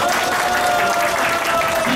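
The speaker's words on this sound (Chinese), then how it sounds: "老爹给他掌声" A crowd applauds a 91-year-old guest being introduced at a billiards match, a dense steady burst of clapping under a tonal hum, with some voices mixed in.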